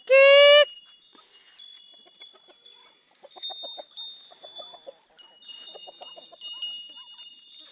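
Chickens cluck softly in short bursts nearby, following a loud opening squawk, with a high thin tone running underneath.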